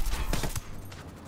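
Rapid gunfire bursts from the Ghost Recon Wildlands video game, a few quick cracking shots fading out within a second, heard alone.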